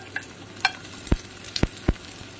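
Garlic and onion sautéing in a hot pan for yakisoba, a steady close sizzle with a few sharp clicks of a utensil against the pan.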